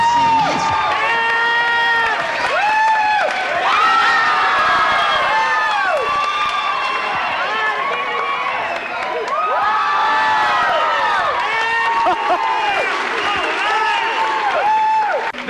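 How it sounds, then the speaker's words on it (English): A large crowd at a muscular dystrophy telethon cheers, shouts and whoops loudly and continuously, with children's voices and some clapping mixed into the dense roar throughout. "This is a sick crowd, isn't it?"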